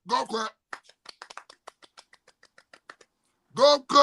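Slow, sparse golf clap from a single person, about fifteen light, evenly spaced claps trailing off, with someone talking just before and after.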